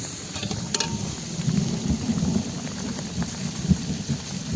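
Rain falls at night during an outdoor chicken party, a steady soft patter with low rumbling underneath and occasional louder drops, with no voices.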